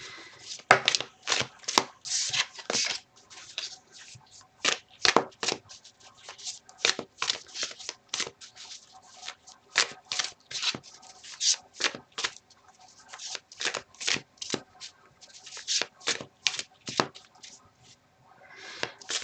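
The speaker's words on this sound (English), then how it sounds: "I'm just going to start shuffling the cards." Tarot cards being shuffled by hand in quick riffling bursts, one after another in an uneven rhythm, close and fairly loud with no talking.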